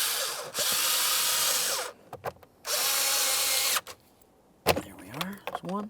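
A power drill drives screws into the dashboard of a 2008-2017 Mitsubishi Lancer, two sustained whirring bursts separated by short pauses, close and clear, followed by light clicks and handling noise.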